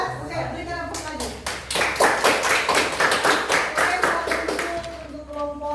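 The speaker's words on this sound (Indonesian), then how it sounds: "Oke, berikan aplaus lagi" Group applause breaks out in a classroom discussion session, a steady run of many hands clapping for several seconds, loud and close, with a voice briefly audible beneath it.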